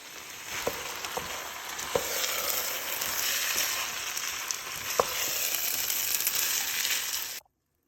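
Chicken frying in a pan with rice for biryani, a steady broad sizzle throughout with a few sharp clinks of a utensil stirring against the pot, and no voices, ending abruptly.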